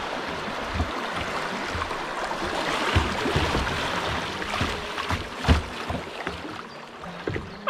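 Rapids on the Liswarta river gurgle and rush around a kayak, a continuous near wash of water with splashes and the odd paddle knock mixed in.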